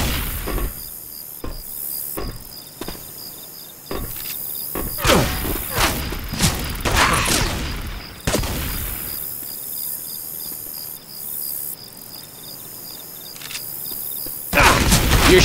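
Gunfire in Left 4 Dead 2 cracks out in scattered bursts of sharp shots over a faint high steady chirping ambience, some shots rapid and clustered, others isolated, with occasional voices in between.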